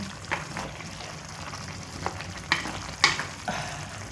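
Food frying in a pan is stirred, giving a soft ongoing sizzle broken by several sharp scrapes and clinks of the utensil against the pan.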